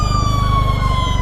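A fire engine siren wails loud and close without pause at a fire blamed on a short circuit, its steady high tone ringing over a heavy low engine rumble.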